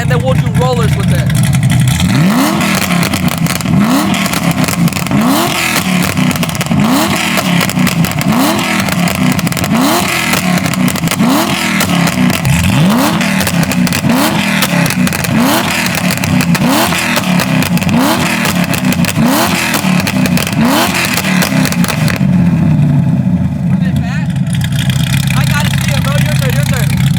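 A car engine warming up and being revved over and over, each rev swelling and falling back in a steady repeating rhythm, loud and close, with people talking over it throughout.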